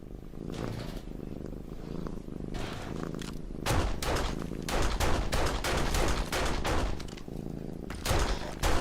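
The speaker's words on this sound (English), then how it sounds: "The purring cat just went off" A cat purring in the survival video game 7 Days to Die, heard as loud, rhythmic rasping pulses repeating close by for several seconds, with heavy bursts mixed in among them.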